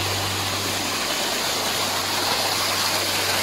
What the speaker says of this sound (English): I know you're hearing the sound of water. Here's the waterfall.